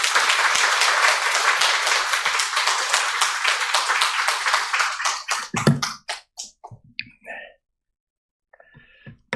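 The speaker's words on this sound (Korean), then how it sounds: "우리 박수로 환영하겠습니다" A church congregation claps in welcome for a visiting pastor at a Sunday service, dense and close at first, then thinning out into a few scattered claps before fading to quiet.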